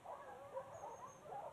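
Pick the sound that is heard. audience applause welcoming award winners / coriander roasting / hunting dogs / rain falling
hunting dogs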